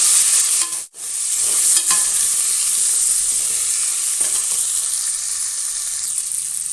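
Onions fry with crushed garlic and curry leaves in a pan, giving a loud, continuous sizzle with a brief dip near the start and scattered scraping stirs, close by and without speech.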